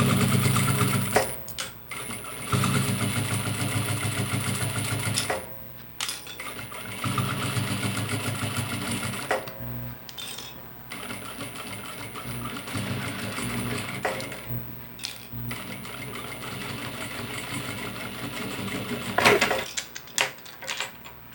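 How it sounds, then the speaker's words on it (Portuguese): Sewing machine running in long continuous bursts while stitching a seam around the edge of a fabric backpack, stopping briefly between passes, close and steady with no talk. "a gente vai rebater uma costura em toda a volta e vai passar uma costurinha aqui nessa beiradinha"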